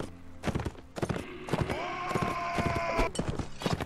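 Cavalry horses charge across a Mount & Blade Warband battlefield in an Imperial Rome mod, with dense overlapping hoofbeats and clashing battle noise that runs continuously under a held tonal drone.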